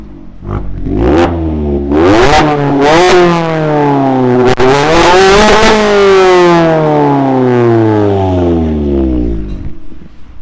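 A Mazda MX-5 1.5 with a remote-controlled valve exhaust revs hard and loud, climbing and falling repeatedly with a raspy, popping exhaust roar up close.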